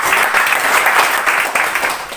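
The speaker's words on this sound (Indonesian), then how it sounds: "Kasih tepuk tangan lagi." A church congregation applauds together in steady, dense clapping, loud and sustained from start to finish with no break, filling the room.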